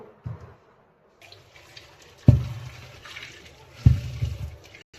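Raw mangoes are washed in water: a short splash, then two heavier sloshing dunks a second or so apart, each followed by trickling and dripping at close range.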